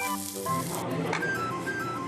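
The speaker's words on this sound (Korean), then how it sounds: "지글지글 구워지는 게 참 맛있어 보이네요." Beef sirloin sizzles on a grill at a butcher-shop restaurant, a steady crackling hiss running continuously over background music, with no voices.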